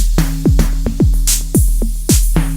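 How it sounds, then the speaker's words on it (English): A run of crisp synth open hi-hat hits with sharp, pitched attacks and short sizzling tails, repeating in a steady rhythm with no voices. "I'll show you what I did with this next hi-hat. This should be the open"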